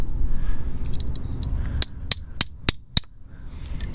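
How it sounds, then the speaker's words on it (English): A rivet is hammered out of a Ford door lock actuator: five sharp metallic taps ring out at a steady pace, close and crisp, over a low background rumble. "You just hit it from this side and it popped out."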